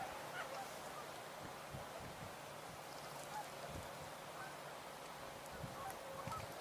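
Mallard ducks calling out on open water, a few short honking quacks scattered over steady background hiss, distant and fairly faint, with no talking.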